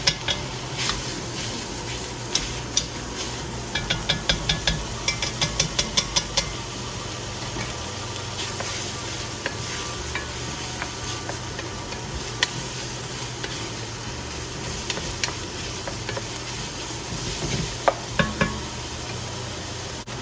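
Sausage browning in a pot for corn chowder, broken up with a fork or potato masher: steady low sizzle with bursts of clinking utensil stirring and scraping, no voices.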